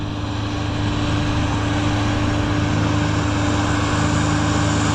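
Chinese tractors, including a UTO LX 1054, plough a field with a loud, steady diesel drone that holds without a break, with a constant hum and no voices.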